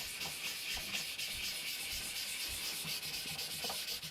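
A ZDP189 Bunka knife bevel being sharpened on a ceramic stone gives a steady, close, continuous abrasive rasp. Faint rhythmic strokes run through it with no pauses, and nobody speaks.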